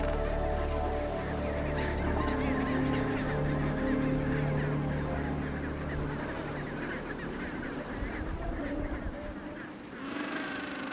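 A dense, continuous chorus of honking penguin calls fills a crowded Antarctic colony, loud and overlapping throughout under a documentary narrator's voice.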